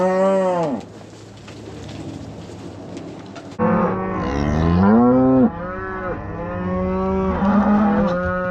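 Cows moo loudly and repeatedly in a working corral, long drawn-out calls overlapping from several animals close by.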